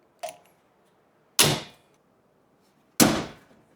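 Aftermarket tube door on an off-road vehicle being latched and clicked shut: three sharp metallic clacks spaced about a second apart, close and loud with quick decay, no talk.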